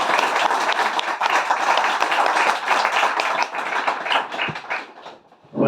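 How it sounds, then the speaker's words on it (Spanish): A crowd applauds steadily with dense, even clapping that fades away near the end, leaving brief quiet. "Así que nada, les recibimos con un aplauso."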